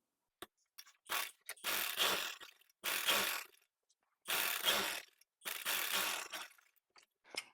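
A sewing machine stitches fabric over buckram while finishing a trouser hem cuff, running in four quiet mechanical bursts with short pauses between.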